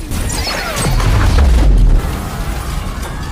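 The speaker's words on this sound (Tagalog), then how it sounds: "Sa tindi ng pagsabog, tumilapon si Kitty at tuluyang nawasak ang sasakyan ni Steve" A loud, rumbling blast with heavy low boom that swells and then trails off into a roaring, noisy aftermath.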